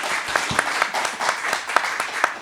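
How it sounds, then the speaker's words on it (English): Audience applause for festival panel sponsors at an event about health care, a dense steady patter of many hands with a few sharper individual claps standing out, fairly close and even throughout. "Please give them a round of applause."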